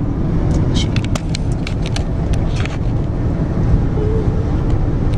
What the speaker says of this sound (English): sorry if you can hear pretty loud sounds because we're on a highway